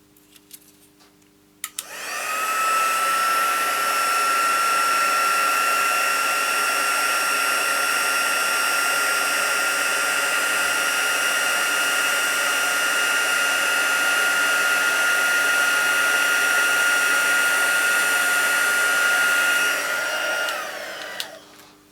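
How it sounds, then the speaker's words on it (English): A heat gun runs for heat embossing a stamped card, a loud, steady whooshing blower whine that starts abruptly, holds constant for about eighteen seconds, then winds down. "Now that one I'm going to heat emboss"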